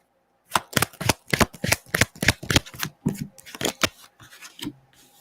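A deck of cards is shuffled in a run of about a dozen crisp, rhythmic riffling bursts, close and distinct, each a quick papery flutter, trailing off softer toward the end.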